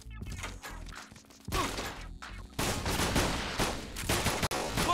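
Gunfire in the video game 50 Cent: Bulletproof, quiet bursts of game shots and impacts, with sparse pops early and then a dense continuous volley of rapid fire in the second half.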